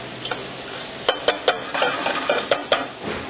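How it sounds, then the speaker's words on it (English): Arborio rice is stirred in a pan, a utensil clinking and scraping against the metal in a string of sharp, close taps over a faint background hiss. "And you're constantly stirring."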